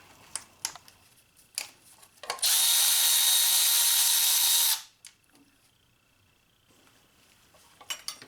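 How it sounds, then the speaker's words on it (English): A 10mm socket on a ratchet or power driver removes a bracket bolt on a Honda 2.4L K24 engine, with one loud, steady whirring burst of about two seconds between a few light clicks and clunks. "So we'll just pull that bolt out. We just need a 10mm socket."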